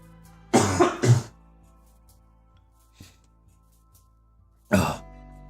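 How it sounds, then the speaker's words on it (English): A person coughs in a couple of short bursts, then a faint throat noise, and one more cough after a quiet pause, close and clear. "I'm gonna cough"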